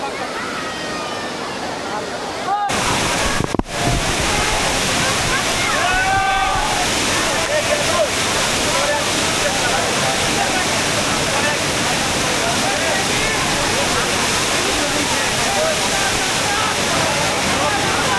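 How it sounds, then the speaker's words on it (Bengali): Mayabi waterfall at Jaflong in Sylhet, with water falling over rocks, gives a constant broad roar that fills the scene. Faint voices are heard beneath it, and a brief knock comes early. "তো আমি এখন আছি বর্তমানে জাফলংয়ে সে মায়াবী ঝর্ণার সামনে।"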